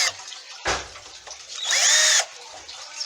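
A power drill briefly whirs, loosening screws on a wooden farmhouse table frame, with a short burst followed by a longer, louder high-pitched spin, close up.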